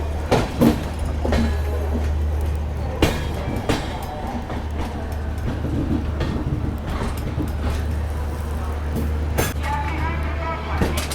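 Rajasthan Sampark Kranti express passing close by outside Jaipur, a steady rumble with sharp clanks and rattles from the wagons, heard from a halted train while someone talks over it.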